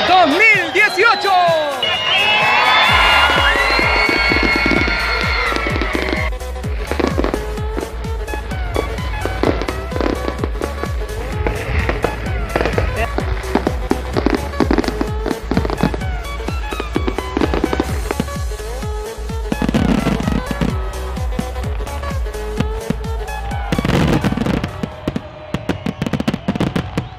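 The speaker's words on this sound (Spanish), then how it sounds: "¡Parte los fuegos artificiales La Pintana" New Year fireworks at a public display in La Pintana burst repeatedly in loud pops and crackles, with a crowd cheering and whooping and people talking throughout.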